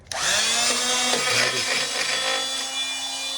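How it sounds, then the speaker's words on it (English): Oscillating multi-tool cutting a gap under a baseboard, a loud, close buzzing whine that starts abruptly and holds steady for about three seconds, its pitch dipping as the blade bites into the wood. "I made it with this tool, oscillating tool."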